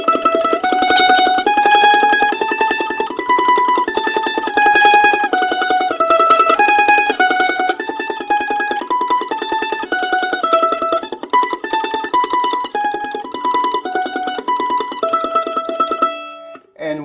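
Mandolin tremolo exercise, a rapid, continuous shimmering pick tremolo on a slowly shifting melody line, close and steady, ending with a final held note, no talking.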